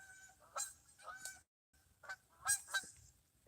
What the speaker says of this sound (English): We got some geese flying around.